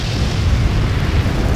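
A fiery explosion bursts into a wall of flames in the Lego Jurassic World video game, a dense, continuous roar of low rumble and crackle that stays loud and steady throughout.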